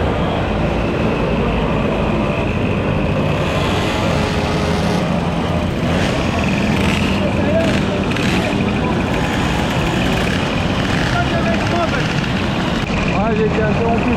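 A crowd of motorcycles sets off at a Savoie rally, producing a loud, dense, continuous engine roar close by that swells and shifts as machines pull away, with voices talking over the din.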